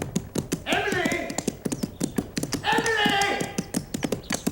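A galloping horse sound effect from a radio drama: rapid, evenly spaced hoof clops drum throughout, close and crisp, while voices shout over them twice.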